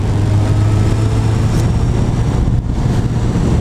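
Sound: car driving on a bad road

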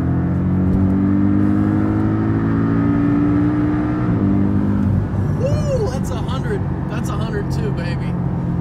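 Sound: Porsche Boxster S engine purring while driving

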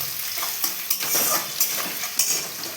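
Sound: chopped onions frying in a pan

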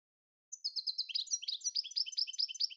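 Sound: goldfinch singing

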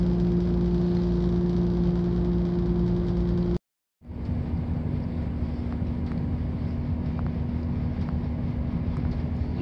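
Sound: passenger train running, heard from inside the coach

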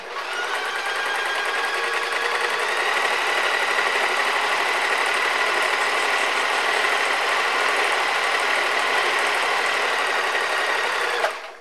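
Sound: sewing machine stitching fabric seams

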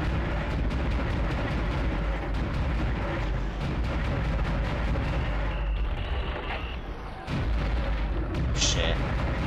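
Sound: weapon shooting in video game Dead Space

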